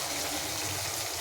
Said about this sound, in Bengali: একটু একটু জলটা দেবো, স্লাইড একটু জল দেবো তেলটা বেরোনোর জন্য